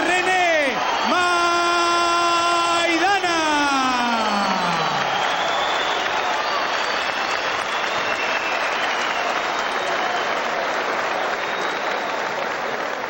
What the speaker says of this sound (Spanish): la ovación para recibir a Marcos René